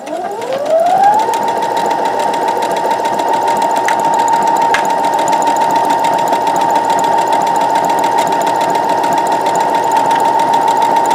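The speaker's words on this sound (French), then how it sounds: "Et donc on va aller coudre à 1 cm du bord." A sewing machine stitches a T-shirt seam about a centimetre from the edge. Its motor winds up quickly, then runs as a loud, steady, close whirring hum without a break.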